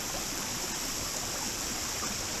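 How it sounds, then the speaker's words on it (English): Hideout Hollow Falls and its creek give a constant broadband rush of falling and flowing water, steady and full throughout with no breaks and no voices. "this is Hideout Hollow Falls"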